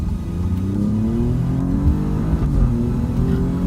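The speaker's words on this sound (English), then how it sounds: "So I'm gonna test my acceleration here, guys." A 2018 Alfa Romeo Giulia accelerates hard in race mode, its engine note climbing steadily in a loud, close, continuous rev with no talking over it.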